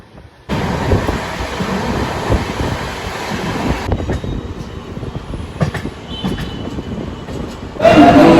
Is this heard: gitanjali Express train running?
yes